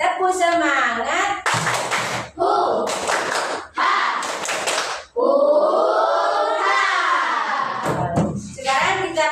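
Schoolchildren clap together in quick rhythmic bursts during a classroom clapping chant, loud close claps and thumps interleaved with sung and chanted voices of the group.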